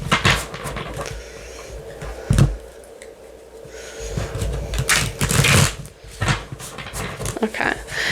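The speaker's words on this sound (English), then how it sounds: "The cards are very new, so they're very slippery, which makes them hard to shuffle." New, slippery tarot cards being shuffled in repeated riffling bursts, close and crisp, with brief pauses between shuffles and some soft background movement.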